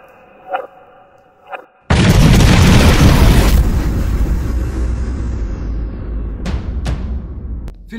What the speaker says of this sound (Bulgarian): сега ще го направим с взрив.